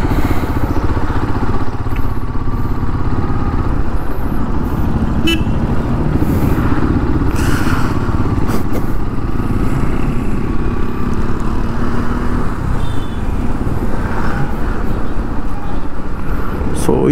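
A Delta motorcycle is ridden through crowded city traffic, its engine a steady low rumble throughout with horns tooting now and then, while a rider talks over the noise.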